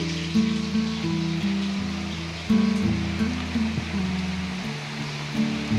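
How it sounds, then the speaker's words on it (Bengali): Heavy monsoon downpour of rain, a steady dense roar of water that carries on throughout, with low tonal hum and clatter mixed in beneath it. "আর বৃষ্টিটা এখানে হচ্ছে দেখাচ্ছি, মানে মুষলধারে বৃষ্টি হচ্ছে।"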